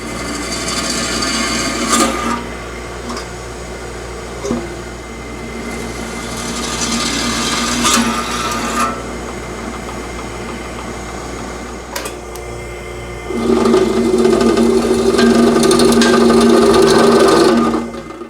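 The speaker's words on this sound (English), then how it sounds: "I had to go to my square column drill press" A square column drill press runs in a home machine shop, drilling into a metal box; a steady motor whine carries under bursts of cutting and grinding that swell loudest near the end, with no talking.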